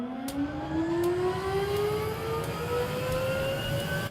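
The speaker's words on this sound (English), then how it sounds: "I added in a Huey helicopter, which has this like iconic sound. Start the engine up." A Huey helicopter turbine spooling up in a sound effect, a steady rising whine that climbs slowly in pitch over a dense rumbling roar, loud and continuous, with faint periodic ticks from the rotor beginning to turn.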